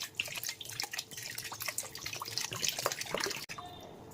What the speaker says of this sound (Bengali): প্রথমে মিক্সির বাটি ধোয়া জলটা দিলাম, তারপরে গরম জল দিচ্ছি